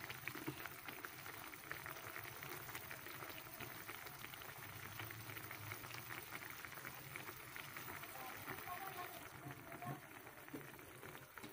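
Water boils in a cooking pot on the stove while simple vegetables cook, a continuous soft bubbling hiss that stays steady and close throughout.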